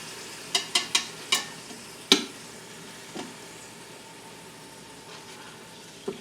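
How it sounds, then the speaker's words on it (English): Beef chunks sear in an Instant Pot while pieces are flipped, with a soft steady sizzle and a cluster of sharp utensil clacks early on, then a few scattered knocks, close with no talking. "that's getting a pretty good sear on it, I'd say. Flip some of those around and get them to the other sides."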